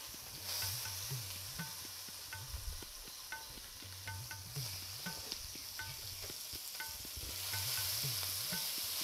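Sweet peppers frying in a hot pan give a steady, close sizzling hiss with occasional stirring scrapes and soft clicks, while low wavering tones hum underneath throughout.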